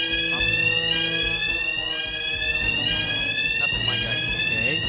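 Hitman 3 alarm sounding as a sustained, shrill warbling electronic siren that drones without pause over a rumbling game background, loud and close, with faint voices underneath.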